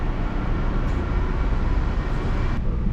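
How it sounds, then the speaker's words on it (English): A TRAX light rail train departs a station in Salt Lake City with a steady, close, broadband rumble and rolling noise that holds constant throughout, with no talk. "The train's heading out now"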